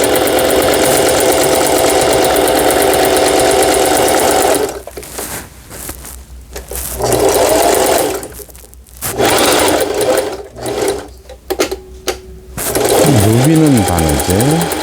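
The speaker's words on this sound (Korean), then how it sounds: "그 다음 지그잭 바느질." Singer sewing machine running a zigzag stitch, heard as a loud, close mechanical whir in long runs broken by stops and short bursts, with a person talking over it.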